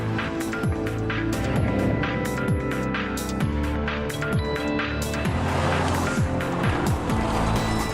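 A 2012 Hyundai Veloster drives by on the road with a steady engine hum and tyre noise, heard under rhythmic background music.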